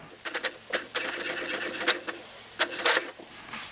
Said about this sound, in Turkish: şu an ikinci test sayfamız çıkıyor